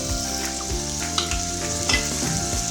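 A pan of macaroni masala sizzles steadily as soy sauce goes in, with a few spoon knocks against the pan over the hiss; a sustained background hum runs throughout.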